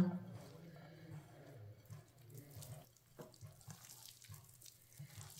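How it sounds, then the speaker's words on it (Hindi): Water is poured a little at a time into a potato tikki mixture, a soft irregular trickle and splash with brief pauses, fairly faint and close. "अब इसमें थोड़ा सा पानी डाल लेंगे।"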